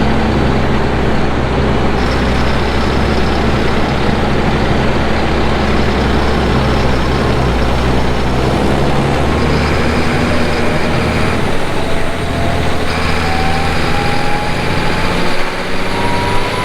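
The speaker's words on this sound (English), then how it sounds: "now we're gonna go hop in the tractor and take away our load" Farm tractor engine idling near a field during spring manure hauling, a loud continuous low rumble with a steady hum, heard alone throughout.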